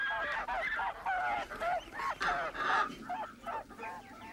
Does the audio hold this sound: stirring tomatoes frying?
no